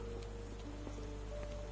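Steady, soft rain falls in the video game Sherlock Holmes The Awakened, a faint even patter over a low ambient hum with a few brief tonal game sounds, and no voices.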